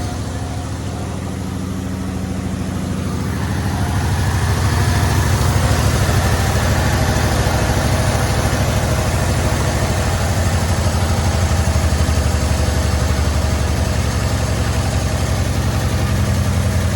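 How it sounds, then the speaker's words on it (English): A 1972 Chevy C10 pickup's carbureted engine idles close up with a steady low rumble that swells slightly after a few seconds and then holds an even, continuous idle for the rest of the clip. "Idling the carburetor down a little bit."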